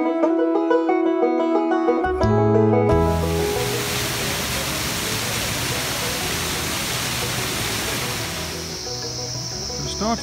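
A river flows beside a steep forest trail in Nepal, a steady broadband rush of water that swells in loudly after a brief quiet start and continues unbroken, with no talk.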